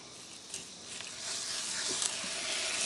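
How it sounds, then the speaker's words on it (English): Pork in a hot camp oven sizzles with a soft, steady hiss that builds slightly, with a few faint pops and light clatter. "I'm expecting this to sizzle a bit."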